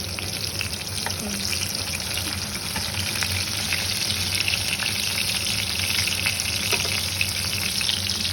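Eggplant pieces frying in a pan make a steady, close hiss and sizzle with faint crackles, heard alone with no one talking.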